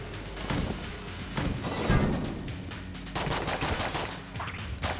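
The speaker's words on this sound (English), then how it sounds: "Holy crap, that was a lot of bullets out of that gun" Video game gunfire from Enter the Gungeon, with a gun spraying many bullets in continuous loud rattling bursts and crashes, layered over game music.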